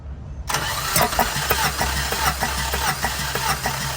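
A Tata vehicle engine cranking over on the starter during a cylinder compression test, starting abruptly and then chugging in steady rhythmic pulses, loud and close.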